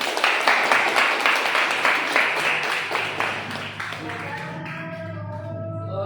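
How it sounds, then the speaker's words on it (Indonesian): Students in a classroom clap together in a busy burst of applause that thins out over a few seconds, giving way to a voice speaking near the end. "tepuk tangan"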